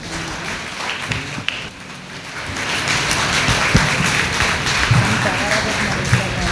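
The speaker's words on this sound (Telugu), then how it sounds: "మేమందరం మీ కొరకు చప్పట్లు కొడతాం." A church congregation applauds during an anniversary mass, with steady, fairly soft clapping that builds slightly and continues throughout, blended with room ambience.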